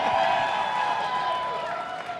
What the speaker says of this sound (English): Y'all give another round of applause for Charlie Batch.